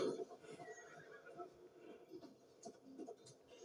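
In the video game Assassin's Creed Valhalla, a horse whinnies briefly at the start, then snorts and shifts quietly, with soft hoof sounds beneath a voice speaking in French.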